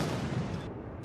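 Cannon salute fired during a military parade at a Chinese state celebration in a public square, heard as a dense, continuous low boom with rumbling gunfire texture, loud and close, with no voices.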